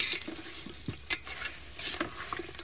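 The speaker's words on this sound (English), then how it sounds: "We stir that around for a second or two." A spoon stirs double cream into a meat curry masala in a pan, giving soft repeated scraping strokes and light clinks over a faint steady sizzle, close and alone.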